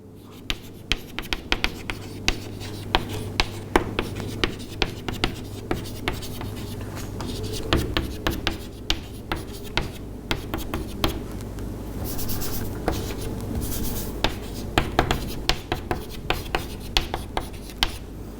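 Pen or marker writing out a math formula on a surface, a close continuous scratch broken by frequent small taps and strokes, with a low background hum and no talking.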